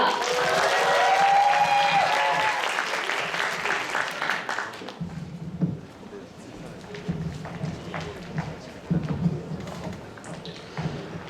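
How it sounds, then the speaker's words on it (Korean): An audience at a Korean college health administration ceremony applauds loudly to welcome a professor, a dense burst of clapping that cuts off after about five seconds, followed by thumps, shuffling and microphone handling in a hall. "이동희 교수님을 큰 박수로 모시겠습니다."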